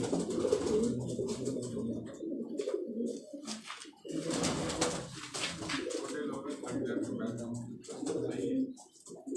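Pigeons coo softly on a Karachi rooftop in low, repeated rolling calls, several birds overlapping continuously at close range.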